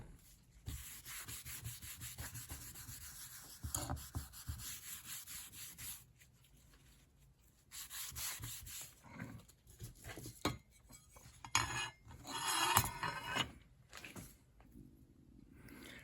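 Eraser rubbing across a pencil line on a Veiko TS precision woodworking line scriber marking T ruler, heard as soft, close scrubbing strokes in irregular bursts with quiet pauses between them.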